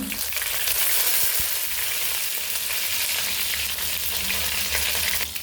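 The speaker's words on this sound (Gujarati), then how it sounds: "હવે આપણે આમાં મીઠા લીમડાના પાન નાખીશું" Curry leaves hit hot oil with cumin seeds and set off a loud, dense crackling sizzle that stays continuous and close throughout, with no talking.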